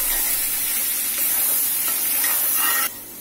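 Taro greens and a hilsa fish head in a pan give a loud, dense sizzle as they are turned over and stirred, which drops off abruptly just before the end; no voices.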